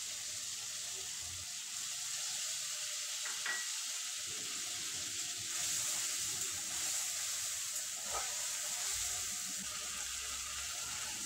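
Tomatoes frying in a pan for a vegetarian pointed gourd and white sesame dish, a steady close sizzle running throughout with a few brief clinks, with no one speaking.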